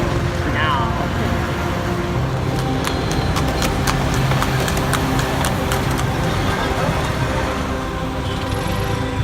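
Hooves of a horse-drawn carriage clip-clop in a brisk rhythm amid busy street noise and a running engine near Mysore Palace, India, with voices chattering in the background.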